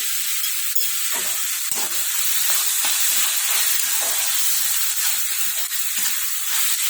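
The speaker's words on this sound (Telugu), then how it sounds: "నేను ఒక స్పూను అల్లం వెల్లుల్లి పేస్ట్ వేస్తున్నాను" Ginger garlic paste fries with onions in a pan for a raw banana tamarind curry, a loud continuous hiss and sizzle up close with intermittent stirring scrapes and no talking.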